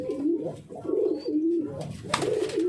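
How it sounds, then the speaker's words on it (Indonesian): Racing pigeons cooing repeatedly, close by, with soft throaty rolling calls in a steady rhythm and a brief rustle near the end. "Nah ini saya memiliki merpati jenis balap semua."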